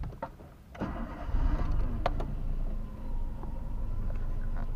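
A car engine cranks and catches during a driving lesson, then settles into a steady low idle that fills the rest of the clip, fairly close, with no talk.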